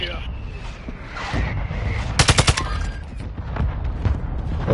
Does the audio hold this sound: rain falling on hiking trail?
no